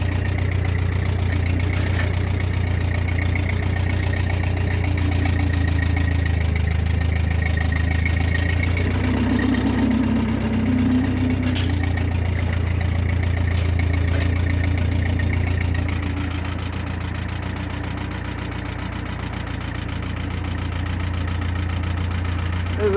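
A tractor engine runs steadily close by as a driveway is smoothed and earth is moved, with a deep, low rumble and a throbbing idle that eases slightly toward the end.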